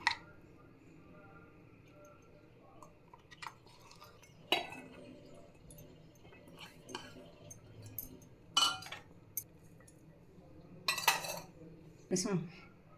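Spinach vada ingredients being mixed by hand in a bowl: soft, irregular clinks and scrapes against the bowl and cutlery, with squishy handling between a few sharper taps, fairly quiet and close.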